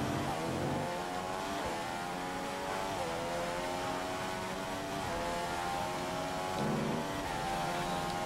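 Formula 1 car engine from the F1 2015 racing game, racing at the Chinese Grand Prix, a steady high-pitched whine that rises and dips through gear changes and stays loud throughout.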